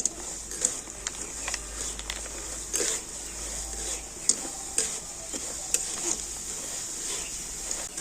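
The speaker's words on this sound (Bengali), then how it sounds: "তো দেখুন আবার আমি চালগুলোকে সুন্দর করে ভেজে নিয়েছি" Raw Gobindobhog rice fries in hot oil with a soft, steady sizzle, while a utensil stirs the grains in repeated scraping ticks, quiet and close.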